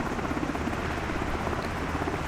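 A helicopter in a flight simulator game over Rome gives a steady, dense rotor and engine drone that holds an even loudness throughout, with no talking.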